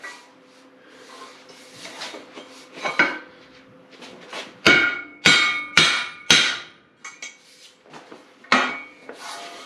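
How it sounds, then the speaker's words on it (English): A trail tool's metal head is hammered down onto its wooden handle in a workshop, with a run of sharp, loud knocks in uneven bursts among quieter scraping and handling noises. "We slide the head onto the handle."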